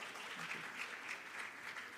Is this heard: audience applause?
yes